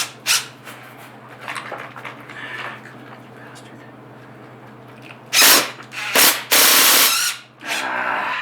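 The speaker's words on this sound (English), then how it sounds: "I need to countersink those more." A countersink bit whirs into 3D-printed parts in a few short, loud bursts near the end, after a stretch of quieter handling noise under a constant low hum.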